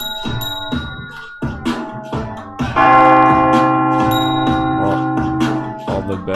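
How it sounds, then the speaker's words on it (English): Bells ring loudly and continuously, with repeated clanging strikes blending into a sustained, resonant peal. "Ring all the bells"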